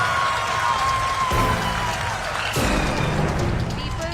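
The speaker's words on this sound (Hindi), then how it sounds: "तालियों की ये गड़गड़ाहट सुनिए।" Thunderous applause from a crowd celebrating ISRO's Chandrayaan lunar landing success, steady dense clapping throughout with voices mixed in.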